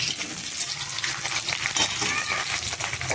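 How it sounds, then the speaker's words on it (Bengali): Large onion pieces frying in hot oil for a chicken stew, a dense, loud, continuous sizzle with bubbling crackle and occasional stirring, close up and with no talking. "পেঁয়াজ দিয়ে দিলাম"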